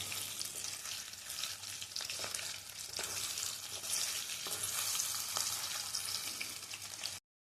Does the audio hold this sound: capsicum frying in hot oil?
yes